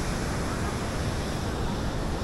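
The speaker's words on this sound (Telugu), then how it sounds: "సో ఇది బ్యూటిఫుల్ మన బోగాతా వాటర్ ఫాల్స్" Rushing water at Bogatha waterfalls, a steady broadband roar that fills the whole short stretch without a break, with no clear talk over it.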